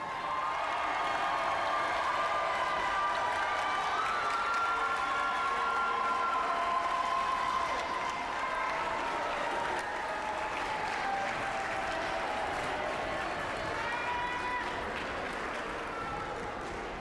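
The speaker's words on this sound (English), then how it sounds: "Warriors fans, please rise and give these girls a round of applause." A gym crowd at a high school girls' volleyball senior night claps steadily and loudly for the players, dense sustained applause with scattered cheers over the whole stretch.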